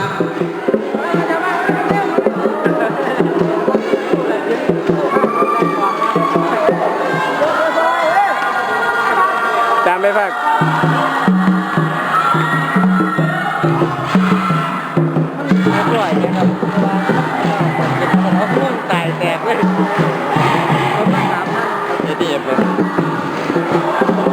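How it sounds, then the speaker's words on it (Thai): First-year university students cheer as a crowd at a futsal match during a campus sports day, a continuous loud roar of chanting voices that keeps going with steady energy throughout. "ปีหนึ่งก็เชียร์อย่างประมาณนี้ครับ"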